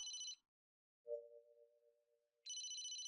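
In the game Famicom Detective Club, a telephone rings with bursts of bright electronic trilling separated by a quiet gap and a soft sustained tone, close and clear with no talk.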